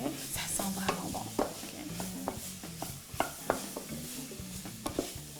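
Spoon stirring tomato paste and meatball mixture as it sizzles in a pan, a steady frying hiss with repeated scraping and clicking strokes, close by and fairly quiet.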